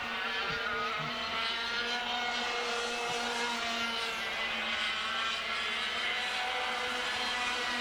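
125cc racing karts at Little Rissington scream past on track in a continuous loud, high-revving engine drone, close and unbroken throughout.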